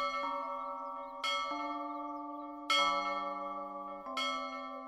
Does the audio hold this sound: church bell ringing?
yes